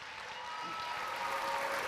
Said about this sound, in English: Let's give a round of applause to all of those.